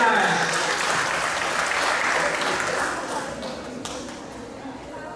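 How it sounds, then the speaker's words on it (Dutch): Warm applause from the crowd at a youth kickboxing gala, a dense, steady wash of many hands clapping that holds loud for about three seconds and then thins and fades. "Mag ik een warm applaus voor deze specialiteit met de twee winnaars."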